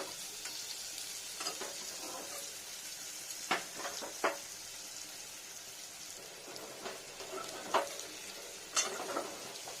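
Skin-on potatoes sizzle in oil and are turned over and over, a low steady fry with scattered crisp pops and spatula scrapes rising above it every second or two.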